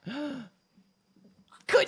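A person sneezes loudly and abruptly close by near the end, after a rising, voiced breath in at the start and a short quiet stretch.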